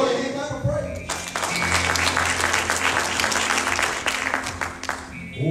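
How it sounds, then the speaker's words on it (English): A church congregation claps in praise during a Wednesday worship service, with dense, loud applause building after a brief opening moment and continuing steadily to the end, with some voices mixed in. "Give the Lord a hand clap of praise."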